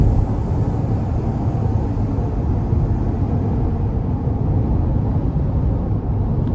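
A 2021 GMC Yukon AT4 with the 5.3 V8 pulls under part throttle, a steady low engine drone and road rumble from inside the cabin, even and continuous with no talking.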